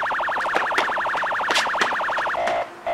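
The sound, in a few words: police siren sound played from a mobile phone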